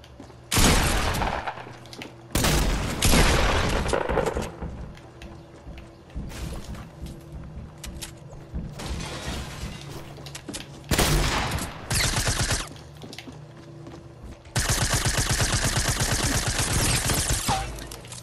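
Suppressed SMG gunfire in the Fortnite video game comes in loud, dense bursts of rapid shots. They are separated by brief gaps and mixed with other game effects.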